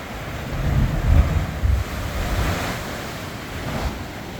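Ocean waves surge into a small rock cave at the end of a rugged shoreline on the Punta Brava trail near Ensenada, Mexico. Low rumbling wash swells, with deep booms as the water hits, under steady wind noise.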